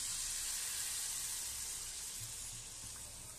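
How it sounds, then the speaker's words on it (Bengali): Cold water poured into a pan of potato and cauliflower curry gives a steady loud hiss and sizzle, fading slightly as it goes on. "এবার এতে দিয়ে দিচ্ছি পরিমাণ মতো জল, আপনারা গরম জল দিতে পারেন, আমি এখানে ঠান্ডা জলই দিচ্ছি"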